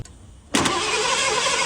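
An old Ford engine cranks briefly, then catches and keeps running at a steady idle, loud and close with no voices.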